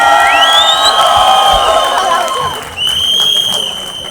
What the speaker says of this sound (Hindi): Paresh Rawal sir के लिए दोबारा तालियां हो जाए